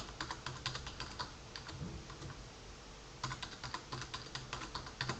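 Rapid keystrokes on a computer keyboard as a password is entered, a steady run of close, crisp clicks with a short pause midway, no voices.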